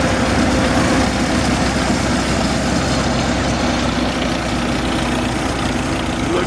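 A small John Deere tractor chugs along in a 23-mile farm tractor parade at Denton Farmpark, its engine a steady low idling rumble that stays even and close for several seconds.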